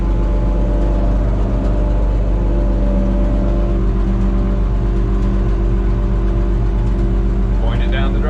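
A Minneapolis-Moline A4T tractor engine runs steadily nearby as it drives slowly, a loud continuous low drone with a deep throb, and a person speaks over it near the end.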